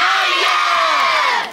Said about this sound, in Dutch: Ik wil een keihard applaus voor deze...